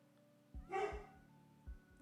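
A dog named Hambone barks indoors in the background, two or three muffled woofs with a brief whiny yelp between them over a low hum.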